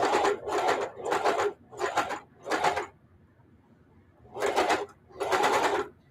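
Sewing machine driving through eight layers of denim and batting for a hot pad made from old jeans, in short, loud, evenly spaced bursts of stitching separated by pauses, close up.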